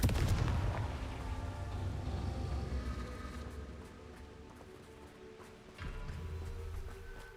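In Hogwarts Legacy, the Confringo fire blast spell goes off with a booming burst that rumbles and fades, then a second heavy blast follows near the end.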